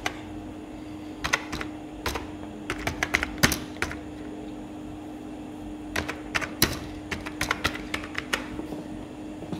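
Computer keyboard keys typed in short bursts to enter a file name while saving an AutoCAD drawing, close and fairly quiet over a steady low hum, with pauses between clusters of clicks.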